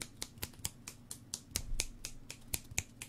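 A person snaps their fingers about a dozen times in a quick, fairly even rhythm, each snap crisp and close against a quiet background.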